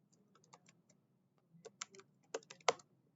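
Fingers type a password on a computer keyboard in quick, irregular bursts of clicks, sparse at first and then denser, close and quiet, with no talking.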